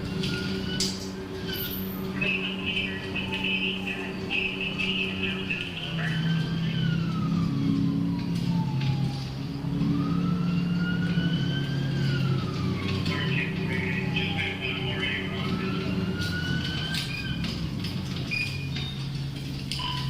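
A police car siren in the video game Project Zomboid wails, rising and falling repeatedly under engine rumble and scattered radio-style talk, steady and fairly close throughout.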